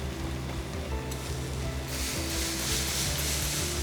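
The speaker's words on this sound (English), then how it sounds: "Next thing I'm going to grill up is going to be a couple slices of onion." Slices of white onion sizzling on a grill, a steady close hiss and crackle with a low background rumble throughout.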